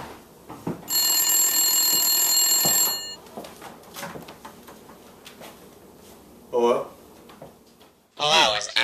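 A telephone rings with a long electronic trill for about two seconds, close and loud, then clicks and handling sounds follow before a short second burst, with a voice speaking around it.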